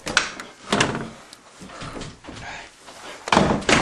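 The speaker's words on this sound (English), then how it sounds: "the door just closed." A door swings shut with a solid thump, followed by further knocks and bumps nearby. Voices are faintly present in the background.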